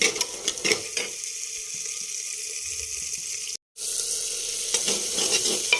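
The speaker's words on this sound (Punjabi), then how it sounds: "ਤੇ ਹੁਣ ਆਪਾਂ ਇਹਨਾਂ ਤੜਕਾ ਲਾ ਲੈਂਦੇ ਹਾਂ" Garlic, onion and tomato sizzle in oil as a tempering inside a clay pot for potato and fenugreek curry, a steady frying hiss broken by a brief dropout, with scraping stir strokes near the start and end; no speech.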